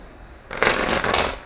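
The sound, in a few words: shuffling tarot cards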